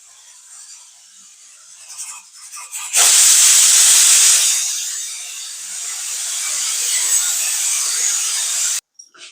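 Pressure cooker releasing its whistle while cooking beetroot gravy: after a quiet start a loud, close hiss of steam bursts out, eases a little, then holds steady for about six seconds before stopping abruptly.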